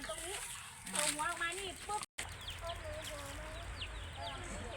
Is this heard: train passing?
no